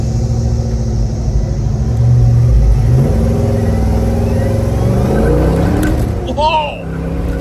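A 1967 Chevrolet Chevelle 396 convertible accelerating hard, its big V8 rumbling loud and close with a rising roar through the run, and a voice briefly exclaiming near the end.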